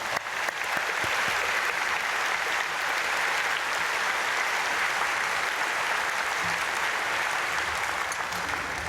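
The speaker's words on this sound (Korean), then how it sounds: "우리 크게 박수로 축복하겠습니다" A church congregation at a dawn prayer service claps in blessing, a broad and even wash of applause that carries on steadily throughout with no speech over it.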